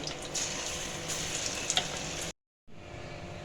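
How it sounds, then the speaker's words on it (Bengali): Egg and potato fritters crackle and sizzle in hot oil, a loud close continuous frying hiss broken by a brief cut of silence before resuming. "এইভাবে আমি সব বড়াগুলো ভেজে নেব"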